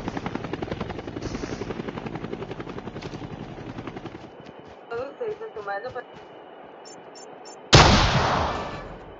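Helicopter rotor chopping steadily in the Call of Duty Mobile battle royale game, loud and close, fading before a sharp burst of gunfire near the end, with a voice underneath.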